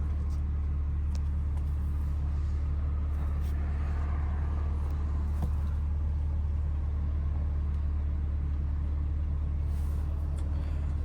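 A BMW G80 M3 drives through city streets at night, its engine a steady loud low rumble throughout with faint traffic noise; no distinct pops or bangs stand out.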